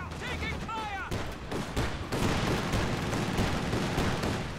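Battlefield gunfire from Company of Heroes 2 cracks and pops in dense overlapping bursts of rifle and machine-gun shots, with thuds of heavier fire, continuous and busy, with a faint voice briefly audible early on.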